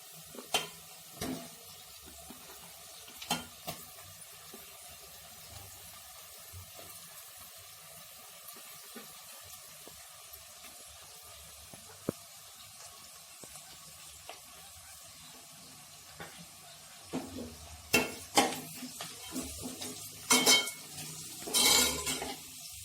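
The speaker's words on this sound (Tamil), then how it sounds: "இப்போ நம்ம பெரிய வெங்காயம் போட்டுக்கலாம்." Large onions are sautéed in a pan: a faint, soft sizzle runs throughout, with occasional stirring scrapes and utensil clatter growing busier toward the end.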